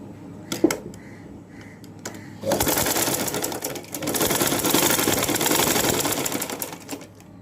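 A sewing machine runs steadily, stitching a folded fabric strip for a baby frock, preceded by a few light clicks and handling noises before the motor settles into a continuous, fairly close whir for several seconds.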